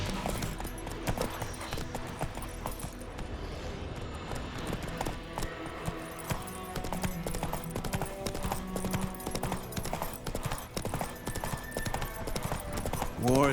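Hooves of Roach, a horse in The Witcher 3: Wild Hunt, clip-clop in a steady walking rhythm throughout, close and clear beneath ongoing conversation between voices.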